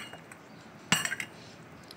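Spoon clinking and scraping against a bowl while chana chaat is mixed with spices and tamarind pulp, a brief burst of clatter in the middle with soft scrapes around it.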